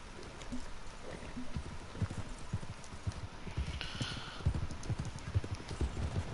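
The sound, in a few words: horse hooves galloping, video game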